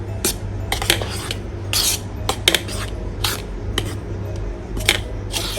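Milk powder being stirred into a moong dal ladoo mixture: a spoon repeatedly clatters and scrapes against a metal vessel in quick, irregular strokes over a steady low hum.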